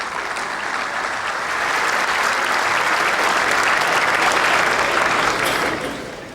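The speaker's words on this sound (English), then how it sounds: "Let's give a warm round of applause for Craig Shankland, please" Warm audience applause at a PGA golf coaching summit, a dense, loud wash of clapping that swells, holds steady for several seconds and then tapers off.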